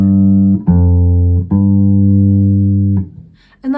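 Open strings on a bass guitar ring as sustained, clean tones, struck three or four times in a row with each note held before the next, loud and close with no talking.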